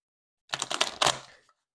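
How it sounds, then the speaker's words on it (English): A deck of tarot cards is shuffled by hand in a quick burst of crisp riffling flicks lasting about a second, close and fairly quiet, with silence before and after. "Let me shuffle through these real good."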